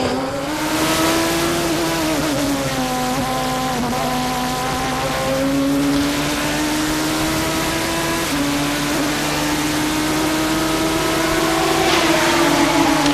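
Grand Prix Masters race car during qualifying at Kyalami, its engine screaming loud and close, pitch climbing through gears with brief dips at upshifts, a sustained high-revving wail.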